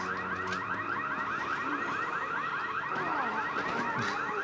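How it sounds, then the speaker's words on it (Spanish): Car alarm in the video game Resident Evil 6, played on PS3, wailing continuously in a rapid repeating warble, loud and steady throughout with no talk over it. "Quítale la alarma a ese carro"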